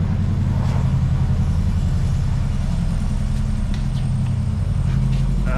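A hot-wired buggy engine with electrical faults runs loud and close at a steady, throbbing idle rumble that keeps an even level for the whole stretch, with no talk over it.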